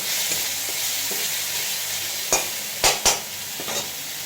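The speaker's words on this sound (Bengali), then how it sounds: "গোটা জিরে ফোড়ন দিয়ে দিলাম। এবার দিয়ে দিলাম একটু আদা বাটা, একটু কাঁচা লঙ্কা" Whole cumin, ginger paste and green chili frying in hot oil for a pointed-gourd (potol) kalia, a dense close sizzle broken by a few sharp spatters and scraping stirs near the end.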